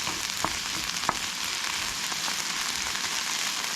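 Onions frying in a pan for a beef and broccoli stir fry, a steady close crackling sizzle with occasional sharper pops, no voices.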